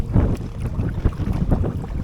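Strong headwind buffets the microphone in loud, uneven gusts on open water from a small boat, with low rumbling roar and no talking.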